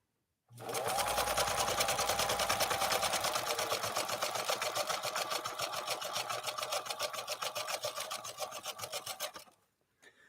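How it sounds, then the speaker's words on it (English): A 1957 Phoenix 283F sewing machine, German-built by Adler, runs steadily for about nine seconds sewing its pattern 2 blind-hem stitch, a fast even mechanical clatter up close with no talking. "now we'll stitch down doing pattern number 2 instead of a straight stitch"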